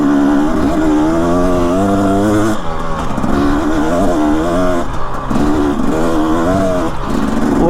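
A dirt motorcycle engine runs loud and close on a soft sand hill climb, held at partial throttle with a steady droning tone that dips and rises in pitch as the rider eases and reapplies power.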